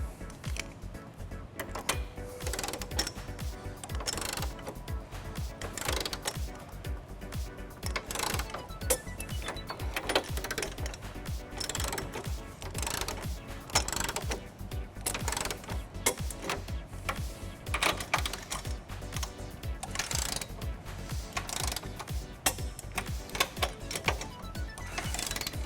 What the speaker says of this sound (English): now we're going to tighten and torque all of our nuts to the manufacturer specification